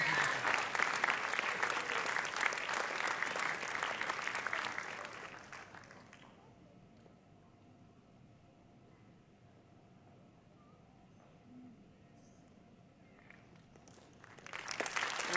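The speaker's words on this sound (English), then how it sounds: "A round of applause, well done." Loud, dense applause for primary school gymnastics award winners at a school sports awards ceremony fills the first six seconds, fades to a quiet room, then swells again at the very end.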